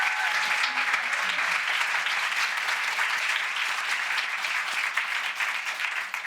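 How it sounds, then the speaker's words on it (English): An indoor audience at a women's entrepreneurship event claps in a dense, sustained round of applause, loud and even from start to finish, fading slightly at the very end. "I want to just give a round of applause for the ladies before they take their seat."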